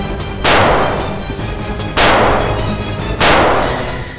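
Three loud, sharp gunshots ring out at even intervals, each with a short echoing tail, in a tense scene from the TV crime drama CID.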